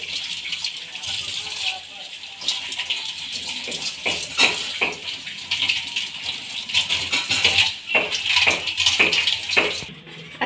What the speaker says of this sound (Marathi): हे गाजर आपण व्यवस्थितरित्या धुवून घ्यायचे आहे.